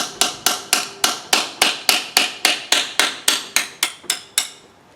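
Hammer striking a wedge driven in to separate the flange on a Defender gearbox, about fifteen sharp metallic blows at a steady, brisk rhythm, close and loud.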